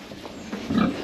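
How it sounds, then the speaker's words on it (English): Pigs grunting on a farm paddock, a few short low grunts building louder toward the end, fairly close, with no talk over them. "Come on, pigs."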